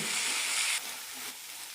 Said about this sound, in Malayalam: രണ്ട് ടീസ്പൂൺ മല്ലിപ്പൊടി നന്നായി മിക്സ് ചെയ്യാം പൊടികളുടെ പച്ചമണം പോകുന്നവരെ വഴറ്റാം